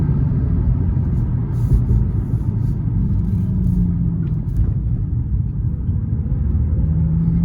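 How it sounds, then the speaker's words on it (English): Low, steady engine rumble of a Nissan 350Z accelerating in second gear, a continuous throaty drone holding even loudness throughout with no voices. "Little second gear pull."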